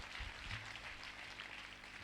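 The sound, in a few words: congregation applauding to acclaim the Holy Spirit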